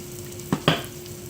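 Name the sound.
loaded potato cakes frying in a pan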